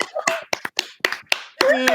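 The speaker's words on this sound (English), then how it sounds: "give my husband a round of applause" Hands clapping in a short round of applause for a husband's one-million-subscriber YouTube milestone, a burst of claps rising at the end, mixed in with excited talk.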